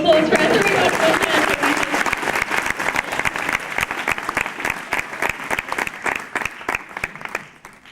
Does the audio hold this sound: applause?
yes